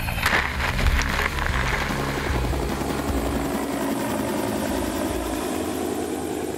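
A firefighting helicopter roars overhead with a steady, thudding rotor beat, loud and close throughout, flying a direct path over a fire for a water drop.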